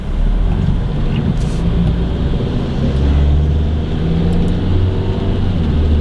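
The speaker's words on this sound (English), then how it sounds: "And there's a lot of cars in front of me." Heavy, continuous traffic noise from many cars rolls past up close, a deep steady rumble mixed with wind buffeting the microphone and never easing across the whole stretch.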